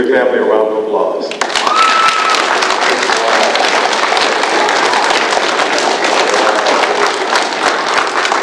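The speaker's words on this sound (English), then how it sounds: "Give your family a round of applause." Loud, dense applause from children at a DARE graduation ceremony, beginning abruptly after a brief voice and continuing as a sustained crackling roar of many hands.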